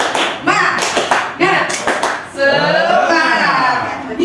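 A group of people claps a rhythmic spirit-clap pattern (tepuk semangat) in a classroom setting, with sharp, loud bursts in quick patterned groups, and voices chant along over the claps.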